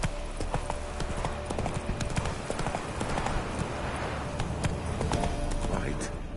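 Roach, a horse in The Witcher 3, gallops with a fast, steady clip-clop of hooves, close and loud, under scattered game sounds and a brief spoken voice.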